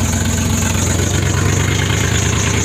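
A truck engine fitted with turndown exhausts idles steadily with a low, even rumble and a faint high whine, close and loud, with no revving or voices.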